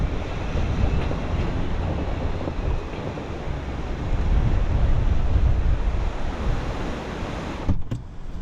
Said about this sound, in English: it's just too windy out there